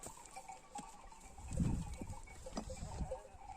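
Sheep bleat faintly in an open outdoor setting on a hillside pasture, a couple of short calls rising over steady background noise.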